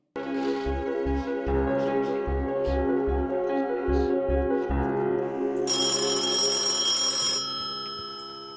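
Telephone ringing in a Hindi-dubbed film, with repeated bursts of bright electronic rings in a regular pattern, then a sustained high tone near the end, loud and alone with no talk.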